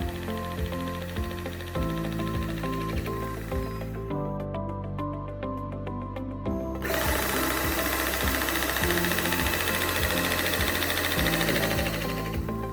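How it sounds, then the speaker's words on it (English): Battery-operated crimping tool pressing a cable lug, a loud mechanical whirring and knocking with a short pause partway through, then a harsher, denser grind. "Complete the crimping process by performing 3 adjacent crimping as shown."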